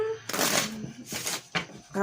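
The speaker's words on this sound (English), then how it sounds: "now is where we're going to reshuffle and move on for Leo" Tarot cards are shuffled in several brisk riffling bursts close up, with a voice speaking briefly between them.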